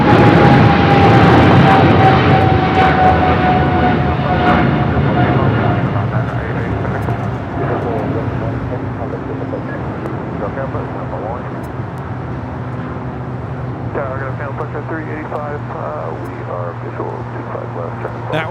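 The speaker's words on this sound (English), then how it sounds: "That was Singapore Airlines Flight 11 taking off to Tokyo Narita on a 777-300ER." A Singapore Airlines Boeing 777-300ER takes off from runway 25 right at Los Angeles, a loud, steady jet roar with a sliding whine that slowly fades as it climbs away, with distant traffic noise and faint voices underneath.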